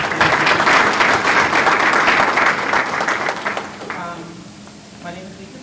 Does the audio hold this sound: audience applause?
yes